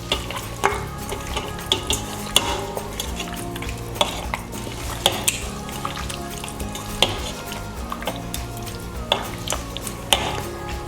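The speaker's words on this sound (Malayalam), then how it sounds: "നമുക്ക് നല്ലപോലെ ഇതൊന്ന് മിക്സ് ചെയ്യാം കേട്ടോ" Chicken and salt being stirred for a pressure-cooker biryani, with repeated clinks and scrapes of a utensil against the pot over a steady low sizzle, spread through the whole stretch with no talking.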